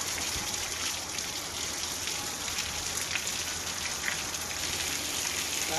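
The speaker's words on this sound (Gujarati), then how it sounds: "શહેર સહિત ગ્રામ્ય વિસ્તારમાં વરસાદી ઝાપટા પડ્યા" Steady rain showers fall over town and village areas in Gujarat's Dwarka district during the monsoon, a continuous dense patter of drops on surfaces with no voices, even and unbroken throughout.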